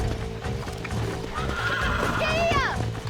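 A horse in Red Dead Redemption whinnies loudly and snorts while being broken, its hooves clopping in a steady rhythm beneath a rider's voice and game sounds.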